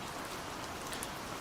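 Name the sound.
rain drumming on a roof and tapping on leaves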